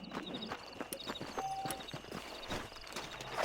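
Horse hooves clip-clopping at a walk in the Red Dead Redemption video game, an irregular clatter of hoof steps over faint background sound and a brief tonal chime.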